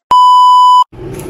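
A phone signalling an incoming call gives a single loud, steady electronic beep lasting under a second, followed by low background room noise.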